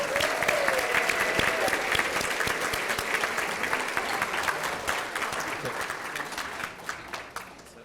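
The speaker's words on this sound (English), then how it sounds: "Let's give our retirees another big round of applause." Audience at a service recognition and retirement dinner applauding retirees, dense sustained clapping from a large room that stays loud and slowly thins out toward the end.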